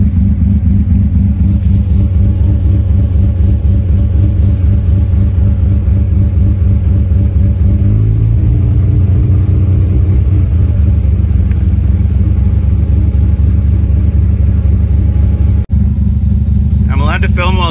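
A car engine held at high revs, loud and close, with a steady droning tone that shifts slightly partway through and ends with a faint high squeal, alone without talk.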